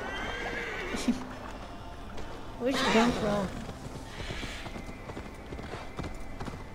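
In the video game Assassin's Creed Valhalla, a called horse gives one loud whinny partway through, with hooves clip-clopping around it, while someone talks over the scene.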